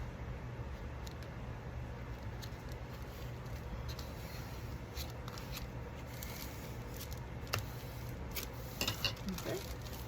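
Scissors snipping a FedEx envelope, a few quiet close cuts and rustles over steady low background noise, with a person talking nearby.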